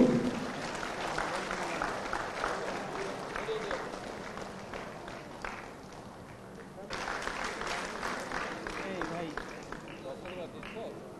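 An audience at a NABARD district development event applauds in a sustained burst of clapping that dips briefly, then swells again, filling the hall.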